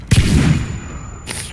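Grenade blast in the shooter game Warface: a loud, sharp boom that rolls off quickly, followed by a brief second burst, close and dominant.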